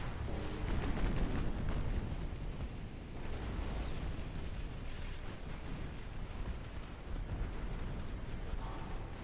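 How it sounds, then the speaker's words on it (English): Torpedo explosions boom during a naval battle in the video game Ultimate Admiral Dreadnoughts, deep rumbling blasts overlapping into a continuous heavy roar, with a cluster of sharper bursts early on and sustained low thunder afterward. "So many fucking torpedoes."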